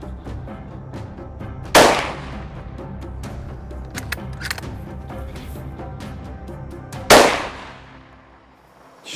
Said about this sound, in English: Fantastic shooting.